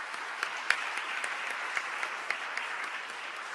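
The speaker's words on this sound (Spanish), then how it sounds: "al subsecretario Salaverry, demos un aplauso de saludo" Audience applause at a Chilean Senate seminar on municipal reform, a steady, moderately distant clapping from a seated crowd that holds throughout without a voice over it.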